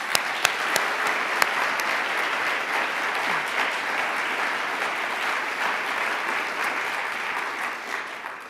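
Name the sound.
audience applause for an opera artistic director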